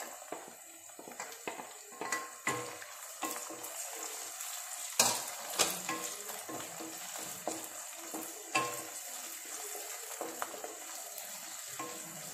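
Green chillies and ginger frying in oil, a soft continuous sizzle broken by scattered pops and a few clinks of a utensil against the pan, heard close but quiet.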